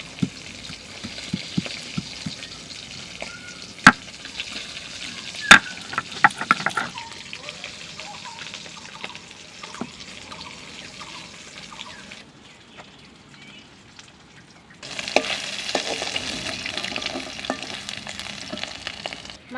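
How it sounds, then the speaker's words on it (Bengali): Shol (snakehead) fish frying in oil in a kadai: a close, continuous crackling sizzle with occasional sharp pops and utensil clicks that quiets down midway, then swells back louder near the end. "মাছ ভাজা হয়ে গেছে"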